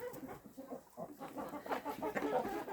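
A farmyard rooster clucks in a run of short, throaty calls, fairly close and steady, with faint background noise behind it.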